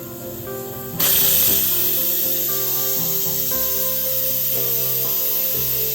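A pressure cooker hisses steadily with venting steam while small pumpkin pieces boil inside. The sharp hiss bursts in loudly and holds continuous and close over background music, with no talking.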